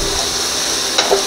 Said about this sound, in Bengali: এবার সমস্ত মশলাটা একবারে ভালো করে কষিয়ে নেব।